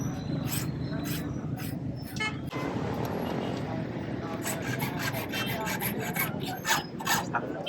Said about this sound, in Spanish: Están copiando una llave manualmente, a mano